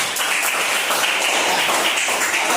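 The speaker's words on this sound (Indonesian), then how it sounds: "Beri tepuk tangan dulu." Classroom applause from students during a lesson, a dense steady patter of many hands clapping together, close and continuous for a couple of seconds.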